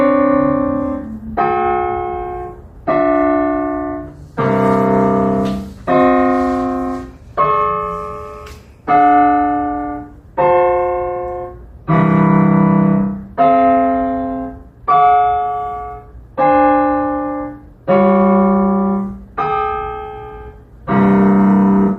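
A just intonation tuning example plays a series of about fifteen sustained harmonic electronic tones, each held roughly a second and a half with brief gaps, rich in overtones, loud and clean with no speech.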